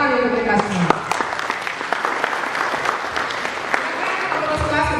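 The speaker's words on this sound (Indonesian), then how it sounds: "tepuk tangan untuk kita semua" A training class of civil service candidates applauds together indoors, steady dense clapping throughout with a voice briefly heard at the start.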